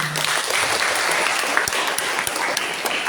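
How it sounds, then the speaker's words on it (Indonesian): Sustained applause from a seminar audience at a national event on nationhood, culture and language, steady dense clapping filling the hall with a few sharper claps standing out. "Tepuk tangan lagi."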